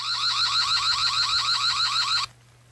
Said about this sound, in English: these cameras have lights, and some also have an alarm. Here's what it sounds like.